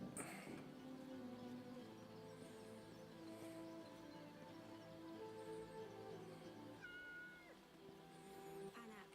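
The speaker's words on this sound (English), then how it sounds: "I pet the cat." A cat in a video game meows when petted, several drawn-out meows standing out over a quiet game soundtrack of soft sustained tones.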